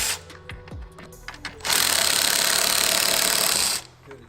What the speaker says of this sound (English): So let's get these unbolted and hopefully this thing will just slide right out.